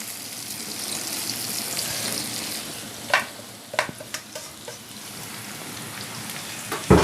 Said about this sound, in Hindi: ये देखिए लहसुन भी और प्याज भी लाइट ब्राउन होगा